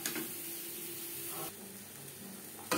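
Water poured into a pan of frying chicken curry masala, a steady close sizzle and hiss running throughout, briefly dipping mid-way before flaring up louder at the end.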